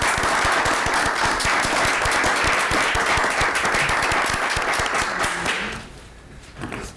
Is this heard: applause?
yes